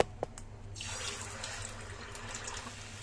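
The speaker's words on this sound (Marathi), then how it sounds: "वडा टाकताच क्षणी बघा किती बुडबुडे आहेत, कसा टम्म फुगून वर आलेला आहे।" A vada dropped into hot oil in a kadhai for frying, giving a faint clink and then a steady, fairly loud broadband sizzle of bubbling oil that starts under a second in and carries on evenly to the end.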